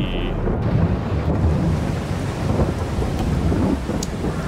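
Steady heavy rain with a low rumbling thunder bed in the farming game Farming Simulator 22, loud and continuous throughout, with no talking.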